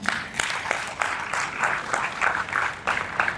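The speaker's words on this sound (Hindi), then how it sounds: "मंच कृति की ओर से एक बार जोरदार तालियां हो जाए" Applause from an audience at a Hindi storytelling stage programme, a moderately loud spread of clapping with uneven swells and bursts, heard alone.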